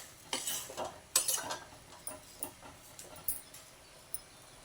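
A spoon stirs spinach and peanut curry in a pan, giving soft scraping and clinking strokes with a few sharper taps against the metal, moderately quiet and close with no talk.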